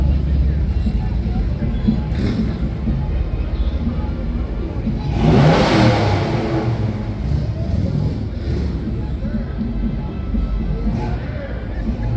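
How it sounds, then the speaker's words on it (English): Classic car engine at a Veterans Day parade in Martinsburg, West Virginia, a steady rumble that rises in a brief loud rev midway, over crowd ambience and someone talking. "Oh, that's got a nice engine there."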